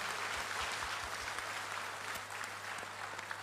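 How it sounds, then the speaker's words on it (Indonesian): Sustained crowd applause at an Indonesian Democratic Party inauguration ceremony in North Sumatra, steady dense clapping with a few distinct nearby claps standing out, filling the whole moment at an even level. "Tepuk tangan untuk kita semuanya"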